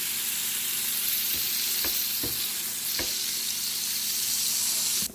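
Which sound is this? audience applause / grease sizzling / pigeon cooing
grease sizzling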